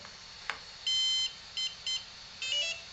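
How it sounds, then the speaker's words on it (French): A short series of high electronic beeps from an RC speed controller initializing: one long tone followed by several shorter ones, clear over a faint steady hiss. "Là c'était les bips d'initialisation."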